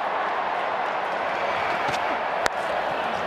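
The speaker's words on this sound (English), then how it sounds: "The crowd are loving this. Siddle has ignited this Adelaide crowd." An Adelaide crowd at a Big Bash cricket match between the Adelaide Strikers and Sydney Thunder keeps up a continuous roar of cheering and applause, with one sharp crack partway through.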